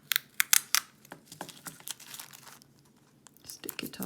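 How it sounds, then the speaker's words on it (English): Sticker being peeled from a diamond painting kit bag: a few sharp crinkly plastic rustles and peeling crackles, close and fairly quiet, in short bursts with pauses. "Remove the sticker"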